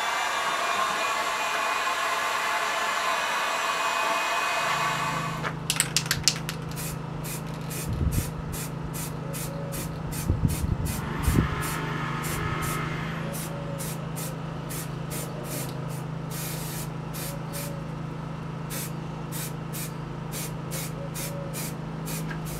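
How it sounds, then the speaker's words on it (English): A heat gun blows steadily over a Batman cowl to heat seal it before black spray paint. Its airy roar runs continuously, gaining a rapid, rhythmic ticking after a few seconds, with occasional dull bumps as it is moved. "But first I'm going to heat seal it."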